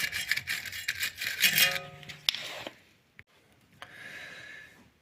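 Hand tool cleaning tie rod threads on a FIAT DOBLO, with rough, rasping scrubbing strokes in short bursts, then a sharp click, a brief pause and a fainter final scrape.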